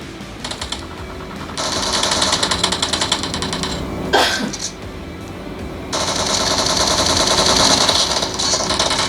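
Gunfire from the video game PUBG played on a Xiaomi Mi 11 Lite smartphone: loud, rapid automatic bursts that stop and restart, with a short whooshing sweep partway through.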